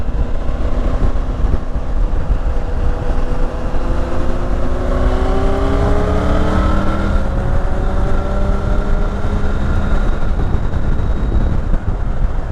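Triumph Tiger 900 motorcycle accelerating hard through several gears, the engine note climbing repeatedly over strong wind rush, loud and close.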